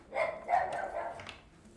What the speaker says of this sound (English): You hear that dog over there?